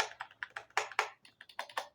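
Crisp plastic clicks from a MAGEGEE TS91 RGB keyboard, about a dozen close, sharp taps in an uneven rhythm as keys and keycaps are pressed and snapped into place, with no talking.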